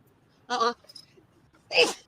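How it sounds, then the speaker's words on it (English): Two sharp sneezes, the second louder and more forceful, separated by a short pause with a faint breath between them. "I was already sneezing."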